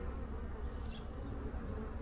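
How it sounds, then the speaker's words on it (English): A swarm of bees buzzes steadily and loudly close to a house, a dense continuous drone with no talking over it. "Wow, that's a lot of bees."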